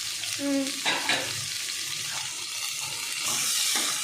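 Onion, ginger, garlic and tomato frying together in a pan: low sizzling with spatula scrapes, a brief tonal squeak early on and a louder hiss near the end.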